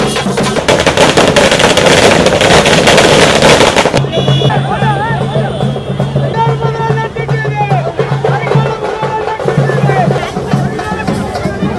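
Firecrackers burst in a dense, loud crackling barrage at a street welcome celebration near the Srirangam temple tower, with chenda drums and other instruments, then thin out into scattered pops under crowd chatter and a steady musical drone.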